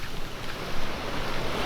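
Ocean waves wash continuously over Hollywood Beach, a steady broadband rush of surf and water mixed with wind noise on the microphone, close and fairly loud throughout with no talking.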